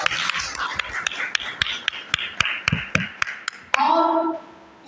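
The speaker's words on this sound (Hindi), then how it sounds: "इनके लिए एक बार जरूर ताली बजाइए" Scattered, sparse claps sound out one by one at a Ramcharitmanas seminar, a slow uneven handful of sharp slaps before a voice speaks over them.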